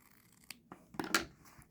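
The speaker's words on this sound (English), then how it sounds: "so I like to clip the corner" Scissors snip the corner of sewn pillow fabric near the stitching, a few short quiet cuts and rustles spaced over under two seconds, close and soft with no talking.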